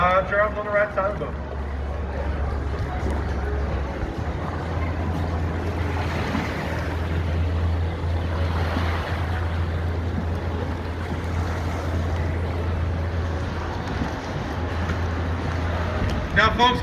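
Steady low engine drone of a tour boat under way on the San Antonio River, with wind and water noise washing over it continuously.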